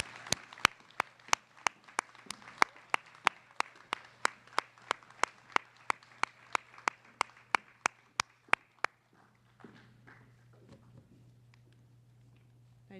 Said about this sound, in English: if we could give a round of applause for all our President's Education Award winners